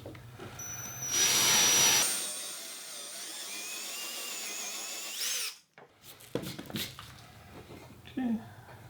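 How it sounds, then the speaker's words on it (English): A power drill bores a hole into the middle of a wooden bowl blank, rising to a loud whine that holds steady for a few seconds, then stops amid handling knocks and clatter. "I'm going to drill a hole in the middle"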